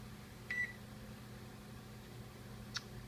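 Two short electronic beeps from a kitchen oven timer being set while baking whole wheat bread, the first a slightly longer tone and the second a brief chirp, heard faintly over a steady low appliance hum.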